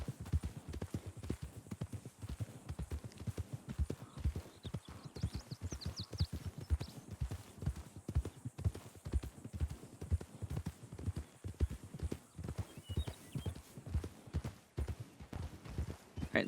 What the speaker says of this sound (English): those are wild horses